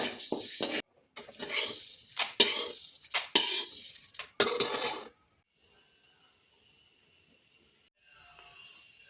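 Fried chakli being set onto a plate, heard as a run of close, sharp clattering and scraping knocks for about five seconds, followed by near silence with a faint background hum.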